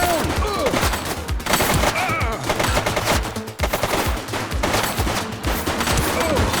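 Rapid gunfire fills a shootout in The Precinct: loud, close bursts of shots crackle almost nonstop with short gaps, and a voice can be heard faintly under the shooting.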